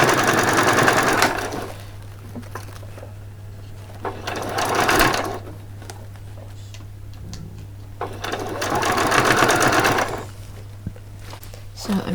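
Three loud bursts of a home sewing machine back stitching and running along a quarter-inch seam on a Christmas party dress, with a steady low hum underneath and quiet pauses between the runs.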